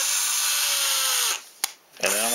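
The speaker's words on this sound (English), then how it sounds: "So now I'm going to drill this straight in" A power drill drives a 3mm tap into holes for 3mm set screws. A steady, close, high-pitched whine runs for over a second, cuts out briefly with a click, then starts up again.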